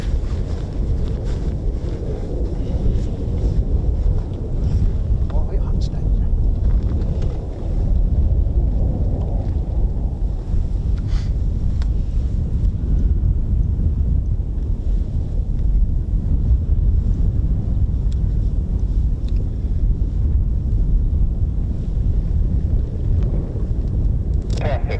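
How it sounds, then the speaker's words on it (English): Strong wind buffets the microphone at the RAF Holbeach air weapons range, a constant low roar with gusty swells, while a voice speaks faintly beneath it. "It's a little bit more and windy, but we'll get by."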